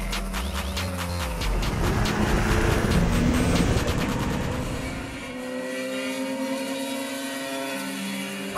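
A small vintage 350 motorcycle engine revs hard and loud, rattling rapidly, then eases off into a steadier, lower drone.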